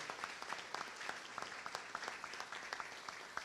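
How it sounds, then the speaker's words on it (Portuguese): Audience applause at a Brazilian education ministry ceremony, a fairly quiet but continuous patter of many hands with individual claps standing out crisply throughout. "queria pedir uma salva de palmas a todos que fazem o Programa Nacional de Alimentação Escolar nesse país"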